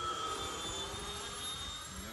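A Freewing A-10 Thunderbolt II RC jet with twin 80mm ducted fans flies at about 60% power, giving a steady, continuous whooshing whine from a moderate distance. No one is talking.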